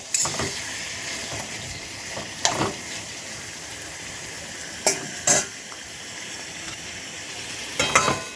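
Spatula stirring a pan of frying curry with green chillies and garam masala, steady soft sizzle throughout broken by a few sharp scraping clicks and clanks against the pan.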